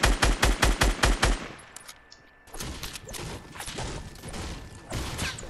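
Rapid bursts of automatic gunfire in a Fortnite match, a tight volley of about eight loud shots followed by a brief lull and then scattered further shots and clatter.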